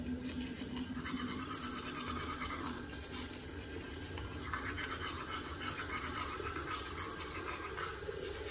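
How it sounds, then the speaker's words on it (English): A toothbrush scrubs teeth in continuous rhythmic back-and-forth strokes, close by, over faint background noise. "Time to brush the teeth."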